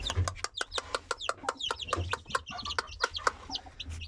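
Chickens and chicks cluck steadily in quick, overlapping calls, fairly close, with a few chirps mixed in.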